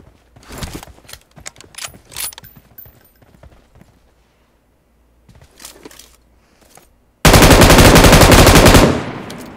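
Bursts of automatic gunfire and single shots from a squad battle shooter game, loud and close, sparse at first, then a dense sustained roar of fire at the end.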